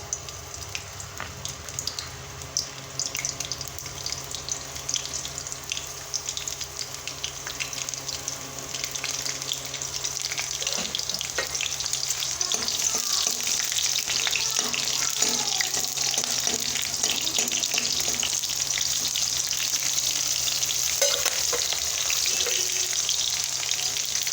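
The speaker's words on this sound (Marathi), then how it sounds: "पहा मोहरी किती छान कडकडत आहे" Mustard seeds crackling in hot oil, a continuous close sizzle full of rapid pops and crackles that grows louder partway through.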